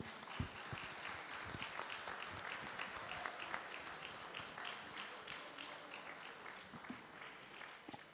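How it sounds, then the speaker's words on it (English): Audience applause at the close of a festival panel discussion, a dense, continuous clapping that carries on for several seconds at moderate volume, with a few sharper individual claps standing out. "Please give them a big round of applause."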